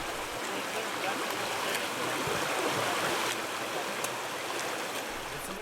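A river rushes in a steady, loud, broadband wash, close by and continuous throughout, with no other distinct sounds standing out from the flowing water.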